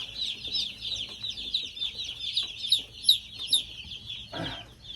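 Newly hatched chicks chirp in a dense, continuous chorus of high peeping calls, close and busy, with a brief rustling burst near the end.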